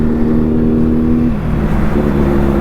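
A large motorcycle's engine runs while riding, a loud, close, steady droning rumble with a slight dip in pitch partway through, with no voices.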